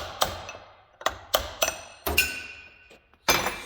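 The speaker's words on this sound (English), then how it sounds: "then take the chisel, smack her off" A chisel is hammered against a part on a 2020 Polaris XCR 850 snowmobile to knock it free, giving a series of about seven sharp, close metallic strikes at uneven intervals, ringing briefly, with no talking.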